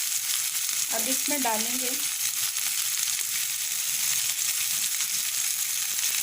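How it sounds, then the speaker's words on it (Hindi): Golden chicken with masala fries in a pan, giving a loud, steady hiss and crackle of sizzling oil throughout, while a voice speaks briefly over it. "अच्छा सा फ्राई हो गया चिकन, हमारा गोल्डन सा हो गया।"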